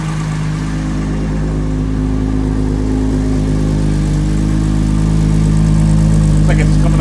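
A 1971 Mercedes-Benz 280SL idles, heard at the exhaust: a steady, loud, even rumble with a constant low throb and no revving, holding smooth for several seconds.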